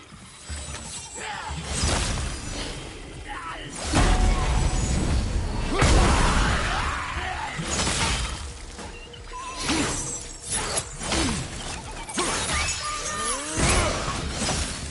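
Repeated shattering and crashing of breaking objects in the God of War game on PlayStation 5, several loud smashes with clattering, grinding debris in an irregular rhythm, close and dense.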